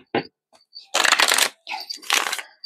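A deck of tarot cards shuffled by hand, a few crisp riffling bursts with short pauses between them, close and clear in a quiet room.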